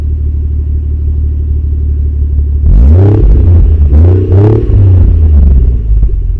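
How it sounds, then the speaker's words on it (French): A Toyota Chaser's 1JZ engine holds a steady deep idle, then two or three sharp revs rising and falling, loud and close with a raspy, throaty tone. "c'est un bon son bien rauque."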